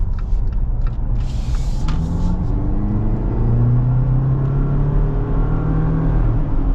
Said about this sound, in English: And get our little acceleration here.